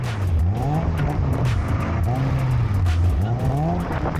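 A budget drift car slides around a figure-8 on tarmac, its engine revving up and down in loud, continuous swells with tire squeal and broad noise from the sliding wheels, heard close and unbroken throughout.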